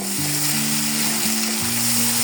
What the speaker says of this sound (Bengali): ভেজে নিচ্ছি কষায় নিচ্ছি যাতে মশলা দিয়ে কোনো গন্ধ না আসে